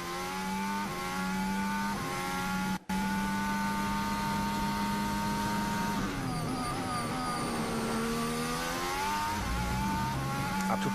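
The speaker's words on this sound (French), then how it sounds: "Un tout petit peu de patinage en sortie de dernier virage et pour Hamilton c'est une amélioration" A Formula 1 car running in practice at Yas Marina in Abu Dhabi roars past at high revs, holding a steady engine note and then shifting pitch as it brakes and accelerates through the turns, loud and continuous.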